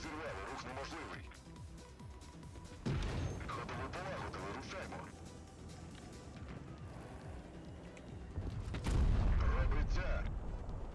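Tank cannon shots in World of Tanks Blitz, with a WZ-111 model 5A in play, booming as a few heavy blasts over continuous engine rumble and battle noise, with someone talking throughout.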